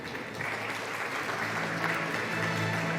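Sustained applause from a conference audience at a business awards event in Mumbai, steady moderately loud clapping filling the room for the whole stretch, with faint voices underneath.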